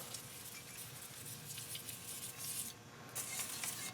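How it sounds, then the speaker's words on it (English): PB Blaster penetrating oil sprayed from an aerosol can onto the stubborn front wheel bearing parts of a 2002–2003 Chevrolet Trailblazer 4WD, a steady close hiss that continues for several seconds and grows brighter near the end. "I'm also going to spray all this shit off."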